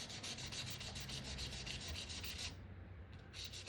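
Sandpaper rubbing over the scratched top of a guitar, a continuous close scratchy hiss that fades out near the end and briefly returns, with no voices.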